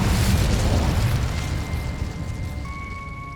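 A fiery blast from the Incendio spell in Hogwarts Legacy, a loud roaring burst that fades into a low rumble while a thin sustained tone rises near the end.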